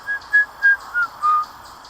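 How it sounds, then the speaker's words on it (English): Five short, clear whistled notes sound close by in an uneven rhythm, each a brief high tone over near silence. "there's a whistle,"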